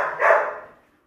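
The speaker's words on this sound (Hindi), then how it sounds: "बिल्कुल फॉरनर कुत्ता है हमारा" A single short, close bark from a foreign-breed pet dog rises and fades within about a second, with no other sounds around it.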